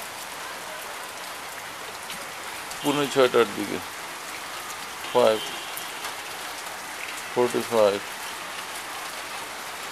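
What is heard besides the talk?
gentle rain falling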